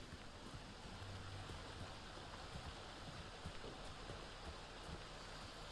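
A river in the video game Kena: Bridge of Spirits, heard as a faint, steady rushing and gurgling stream of water, continuous and quiet, with no speech.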